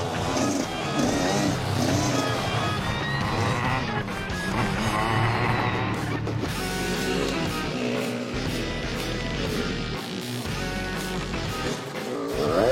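A car engine revs and accelerates in bursts during a driving lesson, loud and close, with a steady low rumble and brief dips as the driver eases off.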